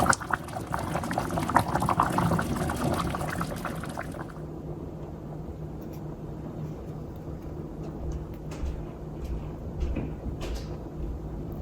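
Soft bubbling and simmering from a pot of chunky chicken chili on the stove, louder at first then settling into a quieter, steady low burble with occasional small clicks.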